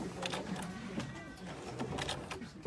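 A sewing machine running in short bursts of rapid stitching near the end of a zipper, close and mechanical, with someone talking over it.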